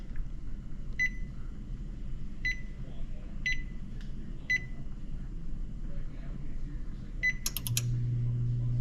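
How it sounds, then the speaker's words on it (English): Several short, evenly spaced electronic beeps from an oven control panel being switched on and set to about 250 degrees, heard over a low kitchen hum and some background noise, ending with a brief burst of higher tones. "Let me turn the oven on."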